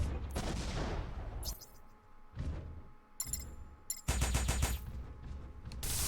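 Mech weapons firing in the mech-building game M.A.S.S Builder, sharp bursts of rapid automatic fire in several separate volleys broken by short gaps, fairly loud and close.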